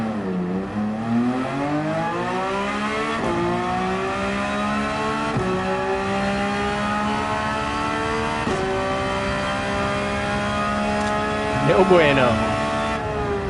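Porsche 911 GT3 engine in Gran Turismo 7, revving hard as the throttle is applied, rising through several gears with brief dips at each shift, loud and close, with someone talking briefly over it.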